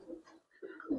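Young red-pied Giribaz pigeons coo close by in a short burst, soft low throaty calls broken by a brief pause before a louder coo.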